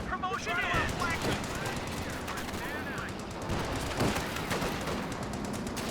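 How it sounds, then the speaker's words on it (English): Heavy .50 cal machine gun fire in a World War II real-time strategy battle, sustained rattling bursts mixed with other battlefield shots and explosions, under a steady stream of live commentary. "50 cal suppressing nicely, helping Orangepest hold on to the center very, very well."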